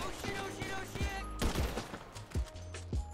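Gunfire in the video game GTA V: several sharp, loud shots at irregular intervals over game music and ambient noise, with a voice speaking in between.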